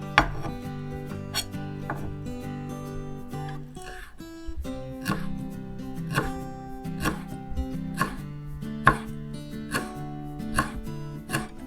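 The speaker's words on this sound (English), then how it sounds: "To make it easier to cut the kaffir lime leaf, roll it before." A knife chops rolled kaffir lime leaves on a board in quick, steady, crisp strokes, close and clear, with a brief pause partway through.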